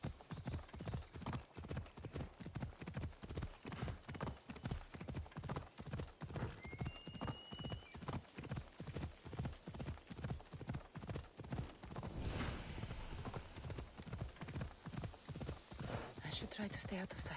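Horse hooves clip-clop in a steady rhythm throughout Assassin's Creed Odyssey gameplay, loud and close, with a player talking over them and a brief whinny-like burst partway through.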